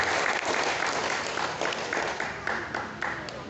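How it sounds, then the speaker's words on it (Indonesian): Lively applause from an audience at an Indonesian gathering, a dense, fairly loud roll of clapping that holds steady for several seconds. "Tepuk tangan yang meriah Bapak Ibu"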